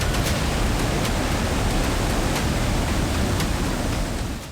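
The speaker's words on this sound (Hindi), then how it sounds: "फ्लैश फ्लड की दहाड़," Flash flood water after a cloudburst in the Kishtwar mountains roars as a dense, continuous broadband rush, loud and close throughout with no let-up before easing slightly at the very end.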